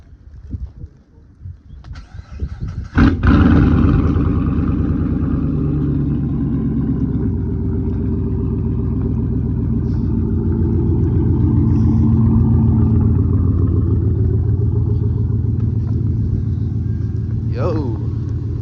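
A car door thumps shut after footsteps in snow, then the engine starts and the car drives off with a loud steady rumble and occasional revving, close by, as someone talks throughout.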